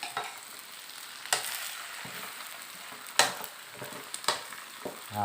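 Marinated pork sizzles steadily as it is stir-fried in a pan, with sharp scraping clacks of the utensil against the metal at irregular intervals; no voices.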